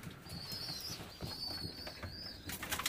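Pigeons in a loft give soft, faint coos and calls, along with light rustling and a few thin, high whistling notes.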